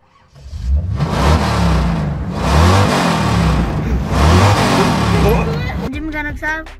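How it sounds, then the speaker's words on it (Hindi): A car engine revs hard in repeated swelling surges during a driving lesson with an underage driver, loud and close, followed by a brief voice at the end. "इतनी रेस देता कोई? रेस थोड़ी दे, और चल अब गाड़ी को थोड़ा सा चला।"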